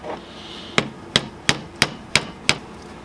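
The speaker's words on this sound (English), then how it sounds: "let's tap it with a aluminum screwdriver" An aluminum screwdriver taps a head bolt into place on a Yamaha Warrior quad during an engine rebuild, six sharp metallic knocks at an even rhythm, close and clear over a quiet background.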